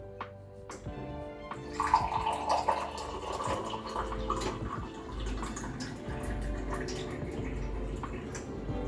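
Water runs steadily from a Livpure RO+UV+Mineralizer purifier into a container, a continuous close splashing fill with small clinks near the start, no talking.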